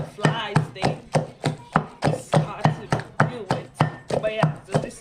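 Seasoned fish is pounded in a mortar outdoors for Sierra Leone-style fishballs, with loud, regular thuds repeating about three times a second, each a sharp close knock.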